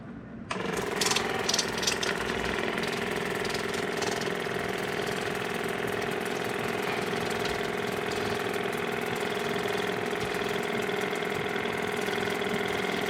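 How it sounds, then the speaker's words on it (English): A chain cleaning tool sprays a steady, loud jet at a chain, starting abruptly and running as a continuous hissing, motor-like drone with no talk. "I'm directing the jet right in between the seals."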